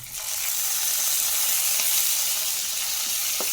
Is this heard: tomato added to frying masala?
yes